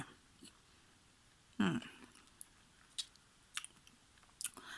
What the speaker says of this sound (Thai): มากินลิ้นจี่กันค่ะ